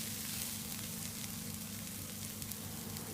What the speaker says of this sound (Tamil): இது எல்லாத்தையும் ஒரு 2 நிமிஷம் போல் நல்லா வதக்கி விடுங்க.